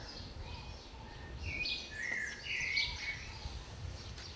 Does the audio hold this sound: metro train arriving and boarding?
no